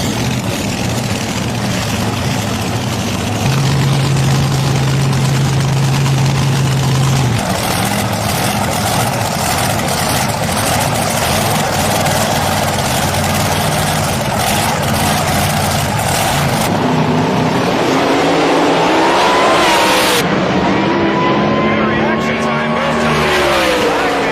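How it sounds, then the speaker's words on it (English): Hot rods drag racing at Old Bridge Township Raceway Park, loud engines roaring down the strip with rising revs and a passing blast, while a commentator talks over the noise throughout. "both racers looking for their first 200-mile-an-hour pass here at Old Bridge Township Raceway Park"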